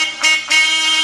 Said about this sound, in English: when I honked my horn